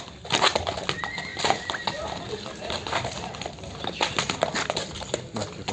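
Horses at the Sokuluk horse market near Bishkek give a sharp neigh among scattered hoof clops, with steady outdoor market noise around them and people talking nearby.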